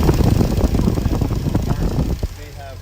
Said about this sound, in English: So why don't we listen to this engine purr